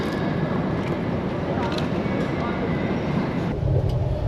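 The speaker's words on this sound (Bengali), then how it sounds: "আমি অলরেডি ট্রেনে উঠে গেছি।" Steady rumble of a passenger train in Beijing heard from inside the carriage, a loud continuous low roar with rattling that shifts slightly near the end, with faint voices underneath.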